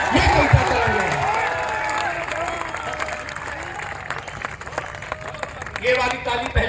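Audience applause at a comic poetry gathering (kavi sammelan) on Assi Ghat in Banaras, a crowd clapping steadily throughout and swelling again near the end, with a voice talking over it.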